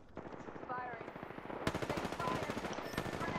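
Rapid bursts of automatic gunfire in Apex Legends, dense repeated shots with a sharper crack partway through, loud and close.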